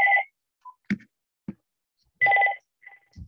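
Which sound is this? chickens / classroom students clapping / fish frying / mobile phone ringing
mobile phone ringing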